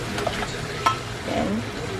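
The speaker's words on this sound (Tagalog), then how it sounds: "lagay muna natin yung ating broccoli para lumambot na siya" Broccoli goes into a pan of simmering mushroom broth for a chicken broccoli dish, giving a soft sizzle and stirring bustle with a couple of light utensil taps, close and fairly quiet throughout.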